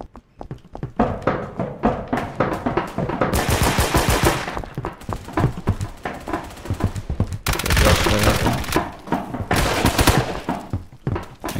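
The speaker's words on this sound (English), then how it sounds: "Am I getting shot at by my teammates?" Loud, dense bursts of automatic gunfire from a multiplayer video game fight. Rapid volleys run almost continuously, with sharp cracks layered over one another and no talking.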